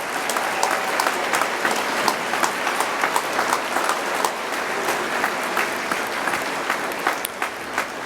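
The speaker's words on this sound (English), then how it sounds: "Let's give our parents a round of applause." Sustained audience applause fills a graduation ceremony hall as the crowd claps for the graduates' parents, a dense steady roar of many hands at close-to-mid distance with no talking over it.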